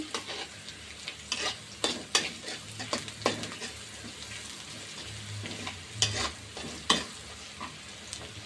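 Chili paste and spices frying in a pan while being stirred, a steady low sizzle under repeated sharp scraping strokes of the spoon at an irregular rhythm, close up and moderately loud.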